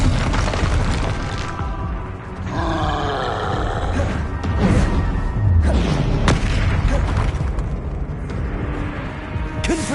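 Bombarda blasting spells boom repeatedly in a Hogwarts Legacy duel, with deep roaring impacts layered over continuous loud combat noise and grunting effects.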